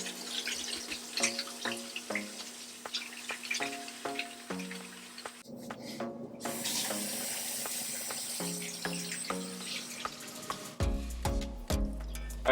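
Water runs over a bar of soap as hands work up a lather at a sink, with splashing and rubbing sounds close by under steady background music; no one speaks.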